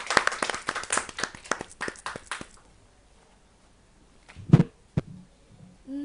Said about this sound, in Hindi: मैं चाहूंगी कि बेटा जरा तालियां बजा के हौसला अफजाई कर दें।